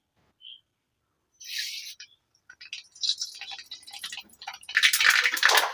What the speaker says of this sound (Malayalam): അപ്പൊ അതായത് കടുക് പൊട്ടിയിട്ടുണ്ട്